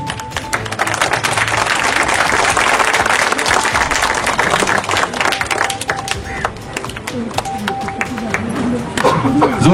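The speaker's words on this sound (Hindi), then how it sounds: "जोरदार तालियां किरण सर के लिए।" Audience applause for a guest honoured on stage at a community gathering, steady and fairly loud throughout, with voices and a few tonal sounds mixed in.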